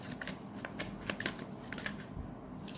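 Tarot cards are shuffled and drawn close by, a continuous papery riffling and flicking with small sharp snaps throughout.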